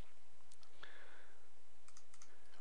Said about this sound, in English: Hit Delete on the keyboard.